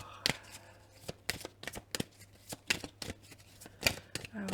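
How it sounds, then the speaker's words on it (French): A deck of tarot cards is shuffled in a series of crisp, close riffles and slaps, irregular taps spread across a quiet room. "Donc on va battre les cartes."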